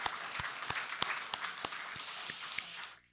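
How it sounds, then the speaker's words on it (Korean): A church congregation applauds during a Sunday worship service: a steady burst of clapping with a few sharper claps, which fades out at the end. "그분들 감사의 마음으로 박수를 드리시죠"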